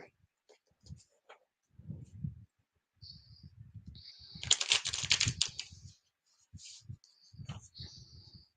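Tarot card deck being shuffled by hand: crisp riffling and flicking bursts, strongest in a dense run midway, near and moderately quiet, broken up by low talking.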